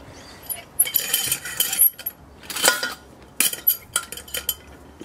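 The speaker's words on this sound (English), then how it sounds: "over comes good old trusty Coleman's saucepan" Metal Coleman camping saucepan handled with repeated clinks and clatters of metal against metal in irregular bursts, close and fairly loud, with no talk.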